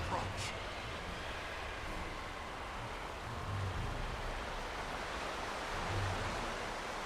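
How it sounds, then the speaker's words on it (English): Loud, steady ocean surf washes through a video game scene, a constant broadband roar of waves with slight swells, filling the whole stretch with no clear breaks. "Oh, we're in waves."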